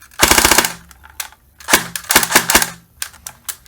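Rapid bursts from a WELL MP7A2 airsoft gun fitted with a new gearbox, several quick full-auto strings of sharp clicking shots, close and loud, with short pauses between bursts and no talking.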